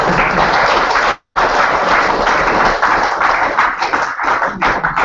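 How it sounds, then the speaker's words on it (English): A crowd at a chess championship claps in sustained, dense applause, loud and close, briefly cut off by a moment of silence before resuming and tapering slightly. "I think you deserve a great round of applause for that"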